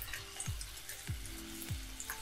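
Swordfish frying in a pan, a faint steady sizzle with soft periodic thumps and clinks nearby, no talk.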